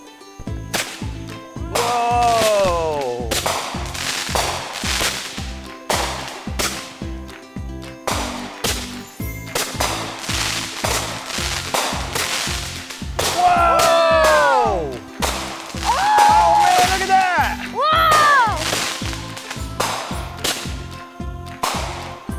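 Tall Texan fireworks go off in a rapid series of sharp bursts and whistling crackles, with rising squeals between the pops, loud and near, as people exclaim and cheer over them.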